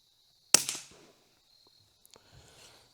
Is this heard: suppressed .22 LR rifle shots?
yes